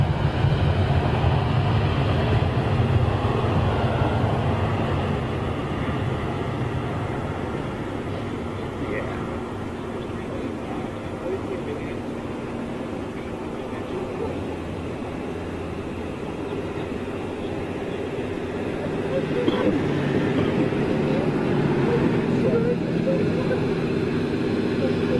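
An Air Malta jet airliner in retro livery drones steadily as it flies in to land, a broad distant roar that dips and then swells again, with occasional voices over it.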